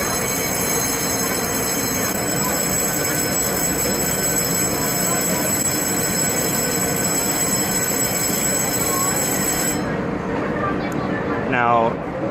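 A high-speed rail train near Tainan gives off a loud, continuous roaring rumble for about ten seconds, then cuts away with a brief rising squeal at the end.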